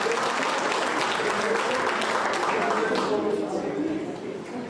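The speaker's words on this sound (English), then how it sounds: "Let's give them a big round of applause" An audience at a teachers' excellence awards ceremony applauds loudly with dense, sustained clapping that fades slightly toward the end.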